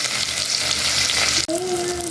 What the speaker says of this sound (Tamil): தக்காளி லைட்டாக மேஷ் ஆகிற வரைக்கும் வதக்கணும்.